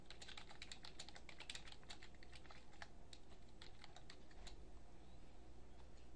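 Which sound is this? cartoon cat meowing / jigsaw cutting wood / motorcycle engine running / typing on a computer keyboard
typing on a computer keyboard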